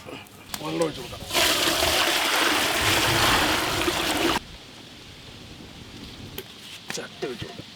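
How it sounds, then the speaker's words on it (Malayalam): Water pours steadily into a pan for melting chocolate for a giant kunafa chocolate bar, a loud gushing rush lasting about three seconds, with brief voices and quieter handling sounds before and after. "വെള്ളം ഒഴിച്ചു കൊടുക്കാം."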